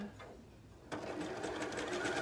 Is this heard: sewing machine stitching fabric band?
yes